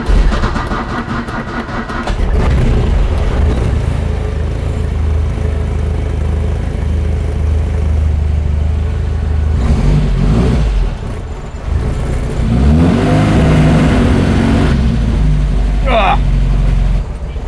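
Opel GT engine droning and revving while driving on a road trip, a loud steady engine and road noise from inside the car with people talking over it.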